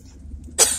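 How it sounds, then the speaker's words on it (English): A young child coughs once, a short loud burst near the end after quiet room hiss, with a second brief rasp just after. "I'm coughing a lot"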